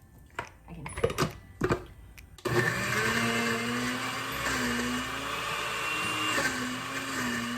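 Several sharp clicks and knocks are followed by a blender roaring to life as it blends strawberries with milk, its motor holding a loud, steady whine with a slight wavering pitch until the end.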